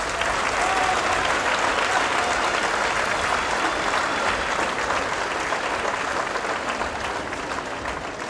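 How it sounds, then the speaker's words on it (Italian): An audience at a basic artistic gymnastics class recital claps loudly and steadily, dense sustained applause that tapers slightly toward the end. "Un applauso per il corso base di ginnastica artistica."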